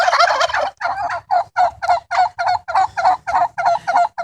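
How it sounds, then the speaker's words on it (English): Flock of turkeys gobbling in a farm coop with an outdoor run, a rapid series of loud, close gobbles repeating about every half second with no talk. "so this is the turkey coop, which Mike built"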